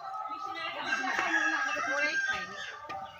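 Chickens clucking and crowing in an outdoor village yard, a lively, close burst of fowl calls with a person talking over them.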